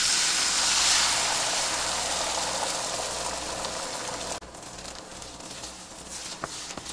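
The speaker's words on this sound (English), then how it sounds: "fry up these eggs" Eggs frying in a pan during a quick home-cooked lunch, a steady broadband sizzle and hiss that stays loud and constant, then drops slightly partway through, with a few faint clinks near the end.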